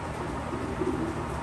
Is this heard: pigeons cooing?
yes